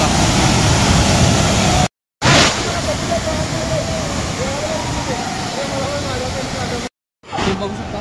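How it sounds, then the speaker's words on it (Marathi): Water plunging from a great height at Savatkada waterfall, a steady broadband roar close by, with brief drop-outs where the sound cuts off for a moment. "बघू शकता वरनं तर किती उंचीवरून पाणी पडते खाली"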